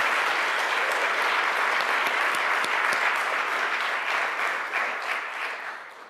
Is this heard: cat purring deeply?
no